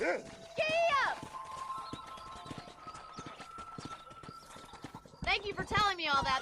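A horse in the video game Red Dead Redemption runs with steady, rhythmic hoof clip-clops, bracketed by loud whinnies at start and end, with spoken game dialogue over it.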